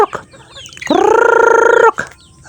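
Chickens cluck close by around one loud, drawn-out squawk that lasts about a second.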